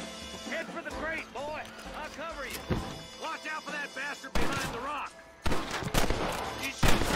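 Gunfire in the Western video game Red Dead Redemption, a series of sharp sudden shots scattered irregularly, several loud bursts near the end, heard among game music and voices while a player talks.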